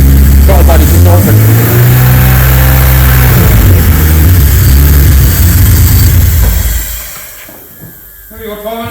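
BMW E36 fitted with a swapped-in M54B30 straight-six, running loud and close with a low engine drone and a few revs that rise and fall, then the engine note drops away near the end while people talk nearby.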